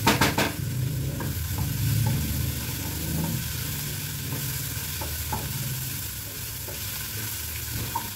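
A semolina and poha dosa batter is stirred and roasted in a pan, with a continuous soft sizzle, scraping stirring strokes and occasional light knocks.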